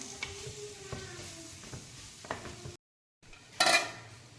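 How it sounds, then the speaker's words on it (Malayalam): Chicken sautéing with tomato in a pan on a home stove for chicken curry, soft sizzling with scraping and clinks of a stirring spoon against the pan, then a brief gap and a sharper clatter near the end. "ചിക്കൻ്റെ പച്ചമണം പോകുന്ന വരെ ജസ്റ്റ് ഒന്ന് വാട്ടി കൊടുക്കാം"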